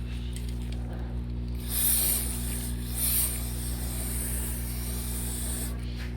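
Chain cleaner sprayed onto a motorcycle chain, heard as two brief bright hissing bursts over a steady low engine-like hum, fairly close.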